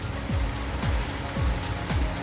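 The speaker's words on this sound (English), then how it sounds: "Sorry about the wind there." Steady rushing wind buffeting the microphone, with low rumbling gusts thumping in roughly every half second.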